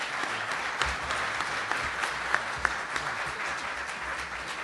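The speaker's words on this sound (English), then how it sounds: "If we give them a round of applause again, I really appreciate that." Steady applause from a room full of people, a dense patter of clapping sustained throughout with a few sharper claps standing out.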